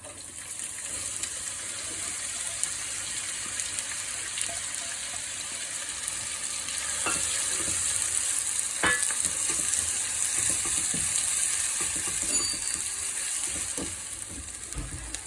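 Cumin seeds and onions sizzle in hot oil for a samosa filling, a steady crackling hiss that swells midway, with a couple of utensil scrapes and clicks.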